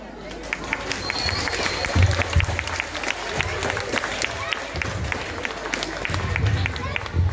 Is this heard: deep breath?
no